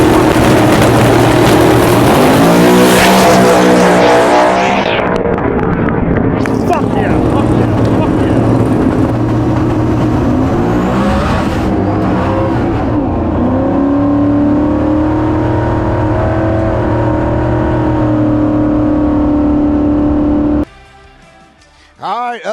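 A drag race car at a 206 mph event roars down the track, a loud sustained engine scream and whir that holds steady before cutting off abruptly near the end.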